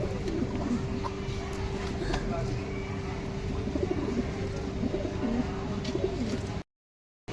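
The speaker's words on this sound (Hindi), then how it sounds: "तो अब चलते हैं दूसरे कबूतर की तरफ।" Caged pet pigeons coo repeatedly in soft, rhythmic phrases against a busy background hum, then the sound cuts out abruptly near the end.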